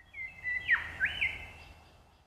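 A lyrebird gives a single call, a fairly clear whistled note that swoops down and back up in pitch, heard alone against a quiet low hum.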